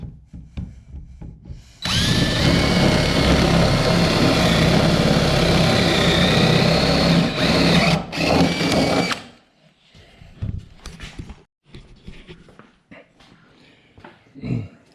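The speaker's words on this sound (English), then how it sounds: "All right, so we're going to drill some holes." A power drill bores holes in a farm water trailer, a loud sustained whine running for about seven seconds before cutting out, followed by quieter scraping and handling noises.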